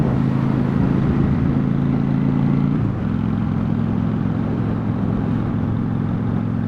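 A bobber motorcycle engine drones steadily while riding, a loud, close, even low thrum. Partway through it shifts down to a slightly lower pitch, as if the bike changes gear or eases off, and then carries on.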